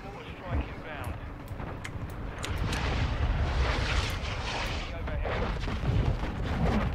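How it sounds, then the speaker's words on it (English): Mortar strike explosions in Call of Duty Modern Warfare II multiplayer rumble loudly as a dense, sustained barrage with scattered sharp cracks, while players talk over the din. "Friendly mortar strike inbound."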